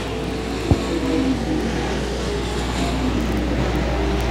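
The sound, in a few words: race cars racing on a speedway oval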